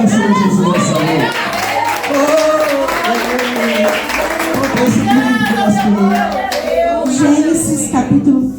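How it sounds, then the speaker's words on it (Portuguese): A church congregation applauding at an evening service, loud clapping mixed with cheering, shouted voices and excited talk throughout. "Quem crê nisso, aplauda o Senhor Jesus nessa noite."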